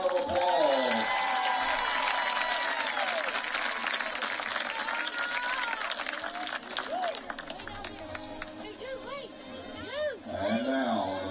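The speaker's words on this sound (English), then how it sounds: "Let's give Anna a big round of applause." Audience applauds and cheers at a live homecoming event, a steady wash of clapping and crowd noise that fades over several seconds as music and voices come through.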